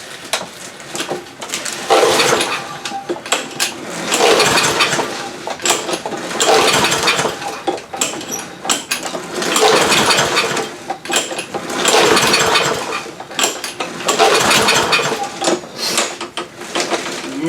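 Repeated pull-start attempts on an old roadside lawn mower with stale fuel in it, heard as regular loud bursts of rasping engine cranking about every two seconds that never catch, with no talk.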